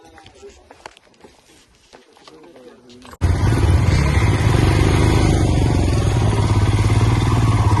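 Quiet rustling and a voice give way to a motorcycle roaring to life for a monsoon off-road ride, then a loud, steady engine drone up close.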